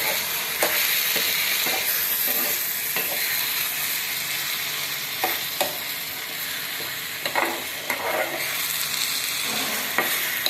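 Elephant foot yam masala with cumin and garam masala is stirred in a hot pan. It gives a steady loud sizzle and hiss, with scraping spoon strokes breaking through at irregular intervals.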